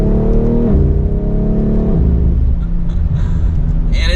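A 2024 BMW X3 M Competition engine pulls hard under acceleration, a loud, close rumbling roar rising in pitch through quick gear shifts, with a brief higher whine near the end.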